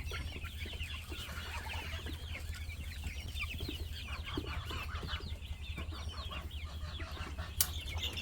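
Young homestead poultry clucking while eating outdoors among turkeys and other birds, a faint continuous stream of soft clucks and chirps with low background hum and one brief sharp click near the end.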